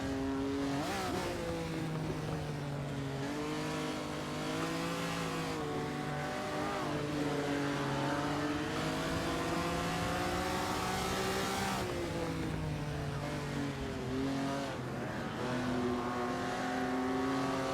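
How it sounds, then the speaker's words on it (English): Ferrari 250 Testa Rossa racing in Assetto Corsa, its engine note rising and falling through gear changes as the car accelerates, loud, continuous and close, with no voices. "The sound is amazing as well here in Assetto Corsa"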